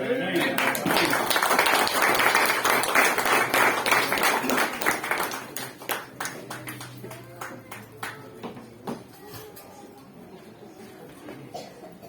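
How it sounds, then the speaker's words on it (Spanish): Enthusiastic applause from a crowd at a church missionary conference, steady clapping for several seconds that thins out into scattered claps and fades. "Vamos a recibir al Pastor Níger con un aplauso de cariño."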